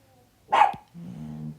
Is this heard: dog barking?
yes